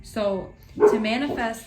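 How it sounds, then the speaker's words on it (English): A dog barks a couple of times in quick succession at a home, sharp nearby yips overlapping a woman's speech. "Sorry about my barking dog at the end there."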